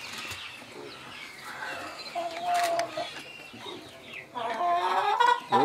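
Chickens on a small rural farm cluck and squawk in short, uneven bursts, growing louder and busier toward the end, with people talking faintly nearby.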